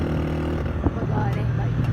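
Motorcycle ridden fast on a mountain road in Pakistan, a steady loud engine drone mixed with wind noise.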